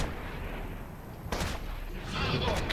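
Gunfire from a sniper in Wolfenstein comes in loud, heavy cracks and booms over a dense background of combat noise, with a second burst near the end.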